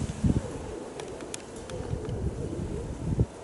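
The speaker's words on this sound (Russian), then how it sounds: "Ветер сильный, Вова, понимаешь?" Steady gusty wind buffeting the microphone outdoors, a low rumbling roar with brief surges, no voices.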